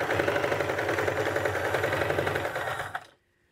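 A sewing machine stitching quilt blocks, running in a steady, fast, close whir that stops abruptly near the end and leaves near silence.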